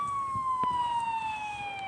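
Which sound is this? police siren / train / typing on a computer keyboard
police siren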